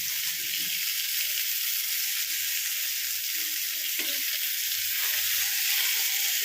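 Fish frying on a tawa makes a continuous, even sizzle, close and moderately loud, with faint stirring clinks underneath throughout.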